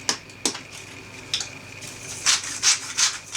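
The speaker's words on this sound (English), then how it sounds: "Now we're using a coarse grain of salt in an actual grinder" Coarse salt ground in a hand grinder over food at a bar and grill kitchen: a few close, gritty rasping bursts, with sharper scrapes early on and a cluster of rhythmic grinding turns near the end.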